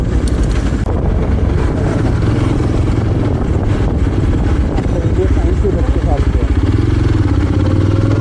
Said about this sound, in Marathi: गाडीचा आवाज पूर्णपणे चेंज झाला आहे आणि आवाज असा खतरनाक येतो